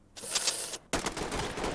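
Gunfire in a SWAT video game, a rapid burst of shots followed by a second, denser volley, loud and close with no talk over it.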